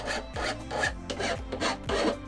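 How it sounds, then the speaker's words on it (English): Metal file rasping across the freshly cut edge of a bicycle handlebar to remove the burr, heard as about five close, loud strokes in a steady rhythm. "I'm just going to burr this edge"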